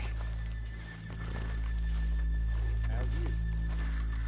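Horses whinnying in Red Dead Redemption 2, a short neigh rising over steady game ambience and a low rumbling background, with brief voice-like sounds near the middle.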